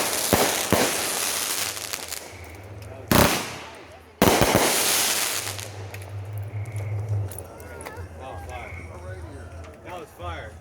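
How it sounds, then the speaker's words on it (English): Fourth of July fireworks crack and boom close by, with a couple of sharp loud bursts followed by crackling fallout, while people talk and shout throughout. "I fucking love fireworks."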